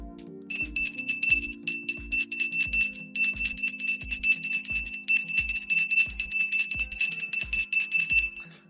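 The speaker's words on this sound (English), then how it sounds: "Got the trusty bell in hand. Ready to ring the opening bell." A handheld bell rung to open the stock market, clanging in a fast steady rhythm of about two strikes per second, bright and loud and close, continuing alone for several seconds with no talk.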